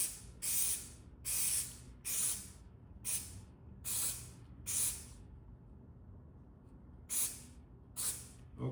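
Short bursts from an aerosol can of penetrant developer, eight or so evenly spaced hissing sprays each lasting about half a second, close and fairly quiet against a faint room background.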